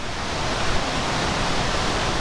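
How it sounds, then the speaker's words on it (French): A mountain waterfall cascades steadily, a continuous broadband rush of falling water with no pauses, close and even in level throughout. "la source de cette cascade qui prend naissance quelque part un peu plus haut"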